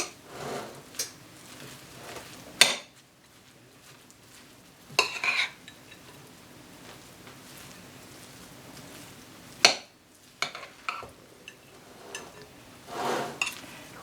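A spatula scrapes and taps in a pan while a cauliflower, ham and egg patty mixture is stirred, giving sparse clinks and scraping bursts separated by quiet stretches, with a faint sizzle underneath.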